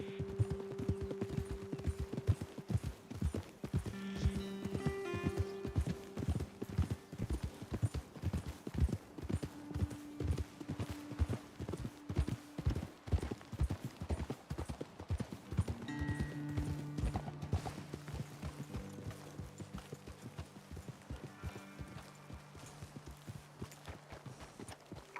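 Horses ridden at a walk through the Red Dead Redemption 2 countryside, their hooves clip-clopping in a steady, overlapping rhythm, close and clear, with tack and brief soft tonal sounds mixed in.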